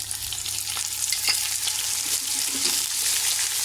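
Browned onions sizzle in hot oil with whole garam masala and ginger garlic paste for a Chiniot-style pulao, a steady bright crackling fry with brief stirring scrapes, close and continuous.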